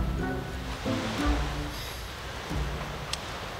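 Waves wash onto an island shore at night alongside insects, a steady, fairly loud surging hiss with a few rolling swells and faint clicks, no speech.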